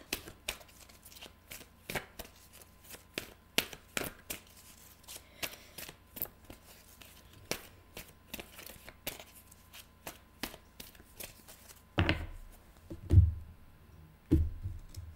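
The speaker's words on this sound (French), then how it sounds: "Je vais prendre une carte oracle là, du Sphinx de Delphes." A Sphinx de Delphes oracle card deck being shuffled, with rapid, crisp card riffles and taps in a quick irregular rhythm close up, followed by a few heavier handling knocks at the end, no speech.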